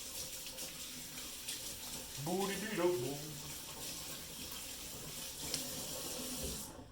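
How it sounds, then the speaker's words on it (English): A kitchen tap runs steadily while hands are washed beneath it, a soft continuous splashing with a brief gurgling surge in the middle, and a voice talks briefly over it. "Let me wash my hands."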